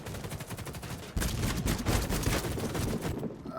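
Rapid suppressed gunfire rattles in Warface, a dense automatic burst that grows louder and continues for a couple of seconds without voices.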